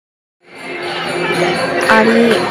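Dense crowd murmur of pilgrims packed into a temple queue at Akkalkot Swami Samarth on a busy Christmas holiday, a continuous close wash of many overlapping voices with a brief sharp clatter near the end.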